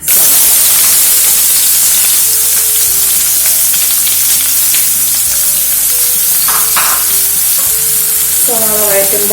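Sliced onions sauté in hot oil with popped mustard seeds, giving a loud, steady sizzle and crackle throughout with occasional stirring scrapes and no voices.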